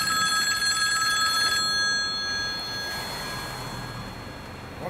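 A cell phone rings with a bright electronic tone for about a second and a half, then cuts off, leaving a steady noisy background.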